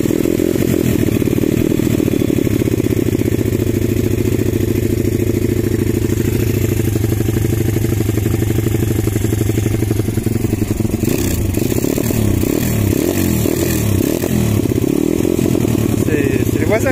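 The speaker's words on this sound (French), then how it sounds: "premier coup de kick, ça a démarré tout de suite" The 140cc engine of an SX Factory dirt bike runs steadily after a kick start, a loud, close, buzzing idle with a slight rise in revs near the end, while someone talks over it.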